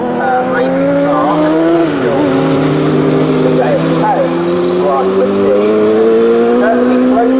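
F1000 single-seater racing cars at full speed around Snetterton circuit, engines wailing loudly and steadily with rising and falling pitch as they chase each other, a commentator talking over the roar throughout.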